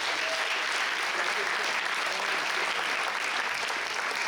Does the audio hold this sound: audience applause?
yes